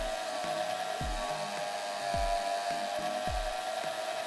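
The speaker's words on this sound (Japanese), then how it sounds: "次はこの機械を使ってシャリを磨いていきます。" A power tool polishing the deadwood shari of a bonsai, giving a steady high whine with repeated short scraping pulses as the tool works the wood, close and without talk.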